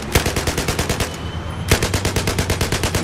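Rapid bursts of machine gun fire from Battlefield 4 rattle loudly in a fast, even rhythm, with a brief pause before the shooting resumes, game-like and close.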